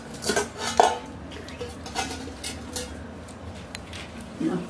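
Dishes, pots and pans clatter and clink in a Maithili household kitchen, several sharp metallic knocks scattered over a few seconds amid low background noise, with faint voices nearby.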